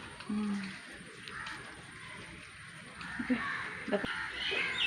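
A crow caws in short, scattered calls over a steady hiss of rain on a wet day, the bird fairly near but not loud.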